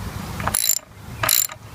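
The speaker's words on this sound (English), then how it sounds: "This bolt might be a little bit more feisty to loosen up" A ratchet wrench loosening a front brake caliper bolt on a 1988 Honda VF750c Super Magna motorcycle, two short close clicking bursts separated by a brief pause, with no talking.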